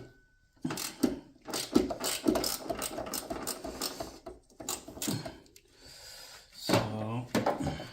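A ratchet wrench clicks in quick, uneven bursts as it undoes a 10 millimeter nut while removing the supercharger on a Jaguar F-Type/XJ/XF, with someone talking over the work nearby.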